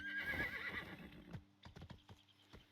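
A horse in the Where Winds Meet video game whinnies loudly up close, then its hooves clip-clop in a few scattered, uneven steps that fade off.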